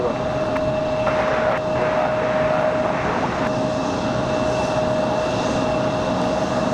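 An Air Canada airliner departs Raleigh-Durham airport with a continuous broad jet roar, steady and sustained at moderate distance, carrying a faint constant whine, alone without voices.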